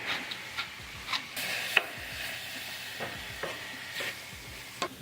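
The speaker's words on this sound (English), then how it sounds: "on medium heat, let's saute" Chopped onions sauté in a pan over medium heat with salt and black pepper, giving a steady close sizzle broken by regular spoon scrapes and stirring knocks; no talking.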